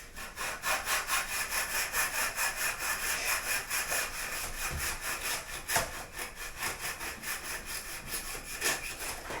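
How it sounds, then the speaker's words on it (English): A derby float held flat and raked across fresh breathable plaster on a wall makes a close, rhythmic scraping of back-and-forth strokes, steady and evenly paced, with one sharper knock midway and no speech. "keep it flat to this wall, and then you can just rake it"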